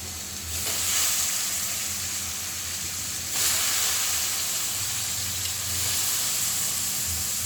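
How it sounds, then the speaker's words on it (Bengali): Chana dal tipped into a pan of fried spice paste sizzles loudly and steadily, with two brief swells where the dal hits the hot oil, for a dal-with-egg dish; no one speaks. "এবার হচ্ছে ওই যে বুটের ডাল দিয়ে দেবো"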